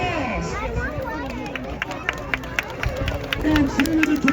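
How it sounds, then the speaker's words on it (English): Crowd at a monster truck event pit party applauding, scattered clapping and crowd noise heard at a distance beneath an announcer talking over a PA. "give them a round of applause"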